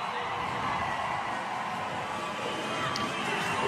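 A CrossFit event crowd cheers and roars in a big arena, a steady wash of loud massed voices that holds without pause from start to finish.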